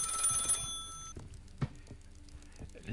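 A telephone rings in the Maid of Sker horror video game, a short burst of bright ringing at the start that cuts off, followed by faint thuds and room noise.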